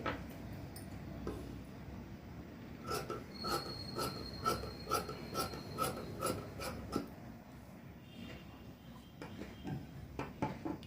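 Scissors cut a straight line through fabric for a six-month baby girl's frock, giving a rhythmic run of crisp snipping clicks with a steady papery crunch, close and fairly quiet, fading off toward the end.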